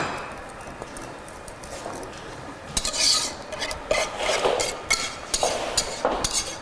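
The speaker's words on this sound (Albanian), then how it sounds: "E shtojmë duke e përzirë ashtu që të rregullojmë temperaturën." A spoon stirs a milk pudding mixture in a pot, making a quiet background at first and then a run of louder, irregular scraping and rasping strokes against the pot.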